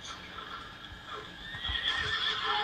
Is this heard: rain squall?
no